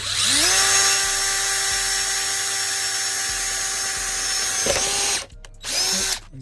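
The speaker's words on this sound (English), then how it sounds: "all you do is get your drill, and then where the circles are that we've done, and go straight through it" A power drill whines loudly at a steady pitch for about five seconds, briefly stops, then revs up again close by, drilling through a Vauxhall Corsa side skirt.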